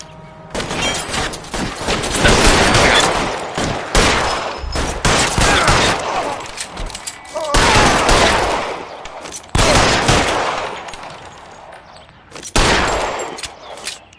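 Loud bursts of gunfire in the crime game L.A. Noire, with repeated shots and volleys arriving in clusters across the span, separated by brief quieter gaps.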